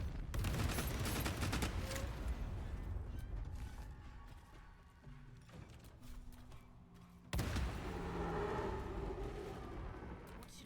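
A rapid Fatal Barrage of gunfire in Baldur's Gate III, with a cluster of sharp shots up front, then mechanical rattling and creaks, and a second loud burst later on.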